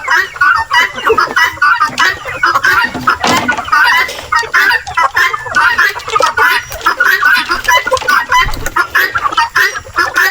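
Chickens being fed large pieces of banana cluck loudly and continuously nearby, a busy, overlapping chorus of short clucks and squawks.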